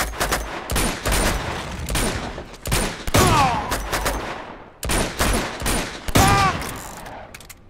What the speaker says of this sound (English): This is the shotgun pistol.